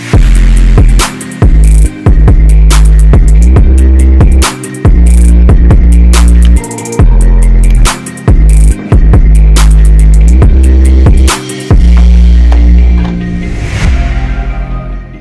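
Welding mounting brackets onto an off-road mower frame in a garage: a loud, continuous electric buzz and crackle with a steady hum, broken by several brief pauses between beads, fading out near the end.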